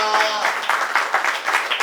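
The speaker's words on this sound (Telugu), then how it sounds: "చప్పట్లు కొట్టి మహిమపడతాం" A church congregation at a Christmas service claps rhythmically together in a steady, even beat, with repeated claps sounding close and full for the whole stretch.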